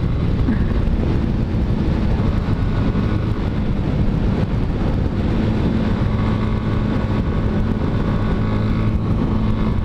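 A CB motorcycle carrying a passenger roars along in a loud, continuous engine drone mixed with heavy wind rush, steady throughout with no speech.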